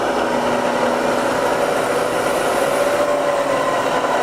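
A milling machine spindle runs steadily at about 500 RPM, giving a loud, even mechanical hum with a constant drone and no breaks.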